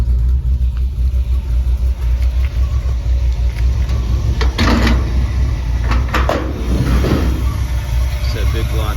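A 1950 Chevy 3100 five-window short-bed truck with a 402 big block idles loudly and steadily up close. The deep rumble runs throughout, with a few brief clunks over it.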